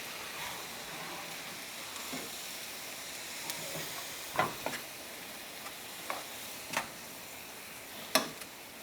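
Spoon scraping and stirring creamed corn with heavy cream and cream cheese in a pan, soft steady sizzle with scattered clicks of utensil against the pan, close and unaccompanied by voices.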